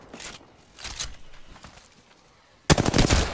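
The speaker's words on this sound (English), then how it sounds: "Opening fire on the enemy." Video game gunfire: rapid bursts of automatic fire in short clusters, then a loud sustained volley near the end, close and punchy.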